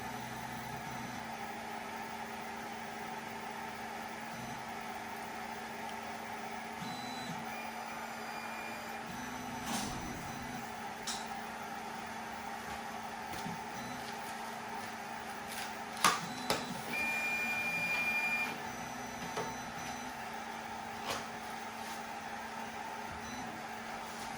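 A Snapmaker 2.0 A350 3D printer hums steadily through its auto-leveling calibration, with faint stepper whines and occasional soft clicks and beeps over a constant low drone, at moderate volume for the whole stretch.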